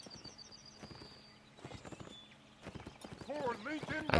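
Horses' hooves clip-clop on the move in the Mount & Blade North & South mod during a multiplayer army event, a busy patter of hoofbeats mixed with game sounds while someone talks over it.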